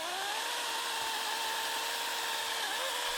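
A cordless chainsaw runs steadily at full speed, a continuous high-pitched whine with a slight dip in pitch near the end, close and unbroken, no voices.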